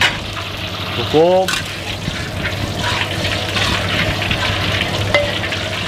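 Oil poured into a frying pan sizzles and crackles steadily at close range, with a brief liquid pour and a person speaking briefly over it.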